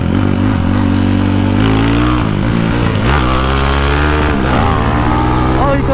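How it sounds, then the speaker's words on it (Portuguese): A 371cc Maiki motorcycle revs hard while doing a wheelie, its loud engine note rising and dipping in pitch across the whole stretch with some rattling. "Olha o Ricão empinando"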